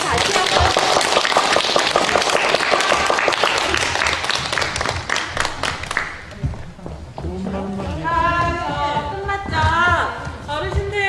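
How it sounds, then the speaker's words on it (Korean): A crowd at a health lecture for visually impaired people claps loudly for several seconds, then the applause fades as voices and music take over. "박수 다시 한번."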